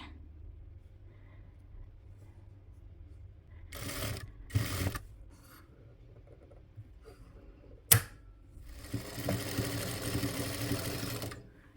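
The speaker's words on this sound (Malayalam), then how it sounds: "ഇനി അങ്ങനെ സ്ട്രെയിറ്റ് ആയിട്ട് സ്റ്റിച്ച് ചെയ്തെടുക്കുക" A sewing machine stitches a straight seam along the neck of a Dubai (Gulf) nighty, heard in short close bursts of rapid mechanical whirring, with a sharp click between runs and a longer final burst.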